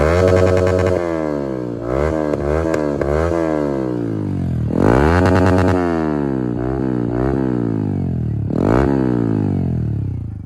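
A Yamaha MT-15 motorcycle fitted with an Akrapovic exhaust revving hard and close, engine pitch sweeping up and falling back through several throttle blips, with sharp crackling bursts on the rises.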